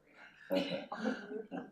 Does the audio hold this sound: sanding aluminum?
no